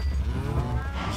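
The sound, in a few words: cows mooing in the video game Minecraft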